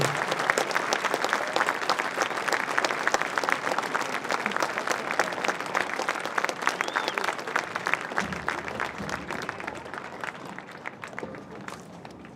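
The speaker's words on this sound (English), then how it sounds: "give all of the SVHS and community veterans one big round of applause" Audience applause honoring school and community veterans at a Smithson Valley High School Veterans Day celebration, a sustained, dense roar of clapping that carries on steadily for the whole stretch and thins slightly near the end.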